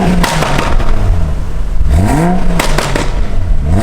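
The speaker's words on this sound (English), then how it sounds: "This is an angry turbocharged BMW." Turbocharged BMW M135i fitted with a VRSF catless downpipe exhaust, revving loudly up and down with rising and falling engine pitch, several crackling pops between revs, close and continuous.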